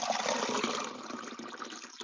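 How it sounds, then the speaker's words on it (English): Water is poured into a mason jar in a classroom, a continuous close gushing splash that eases slightly toward the end, with no talking. "Pour it into the mason jar."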